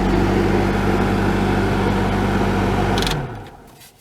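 A faulty heater and AC blower fan motor in a Toyota Sienna runs with a loud, steady droning hum and rattle, then winds down and stops near the end, heard close with no voices.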